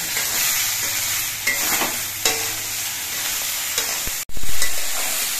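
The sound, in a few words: eggplant and potatoes frying and being stirred in pan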